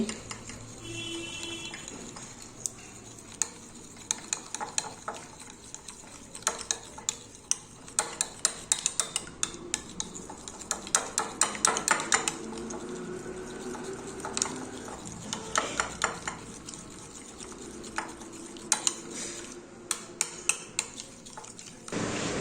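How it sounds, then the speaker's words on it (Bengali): Eggs with ground pepper being beaten by hand in a bowl, giving a long run of quick, irregular clicking and scraping strokes against the bowl, fairly close and steady with no voices. "ডিমের মধ্যে দিয়ে দিচ্ছি গোলমরিচের গুঁড়ো এবার ডিমটাকে ফেটিয়ে নিচ্ছি ভালো করে"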